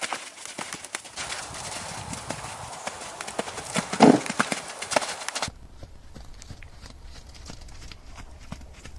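Horse hooves clip-clop in a steady cantering rhythm during a jumping training session with flying lead changes, close and clear over outdoor noise for about five seconds, then quieter, sparser hoof and ambient sounds.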